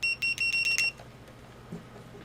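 Continuity beeper of a Hioki DT4252 digital multimeter sounding in a quick series of about five short, high-pitched electronic beeps, fairly close and clear, followed by quiet room tone.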